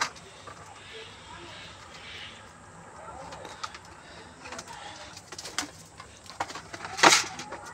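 Pigeons coo softly near a water dish set out with wheat, low intermittent calls over quiet background noise with a few sharp knocks and a louder burst near the end.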